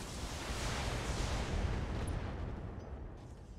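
Mech video game combat as all weapons fire at once: a thick, roaring blend of gunfire and explosions with deep rumbling booms that swell and then slowly ease off.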